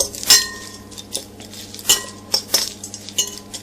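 A spoon clinks and scrapes around a bowl while dry ingredients for homemade hamster cookie treats are stirred, giving several sharp metallic taps between softer rustling, close and fairly loud, with no voices.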